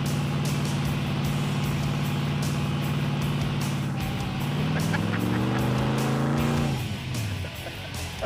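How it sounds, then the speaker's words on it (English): A car's engine roars in a sustained high-rev burnout, a loud steady tone that climbs and wavers as the tires spin, then drops off sharply as the throttle is released, close by. "That was our most successful burnout yet in this car."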